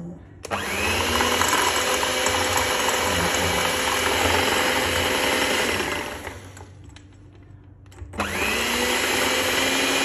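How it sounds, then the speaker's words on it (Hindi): An electric hand beater whips coffee for a cappuccino, a loud, steady high whine that drops briefly near the end before starting up again at full speed. "ये विस्क नहीं हो रहा चम्मच से तो बीट ही करना पड़ेगा ये आ गया बीटर"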